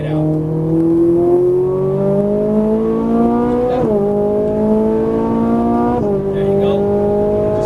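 A Ferrari 458 Italia accelerates hard on a Las Vegas race track, its engine note climbing steadily through two upshifts with brief dips between gears, loud and close throughout.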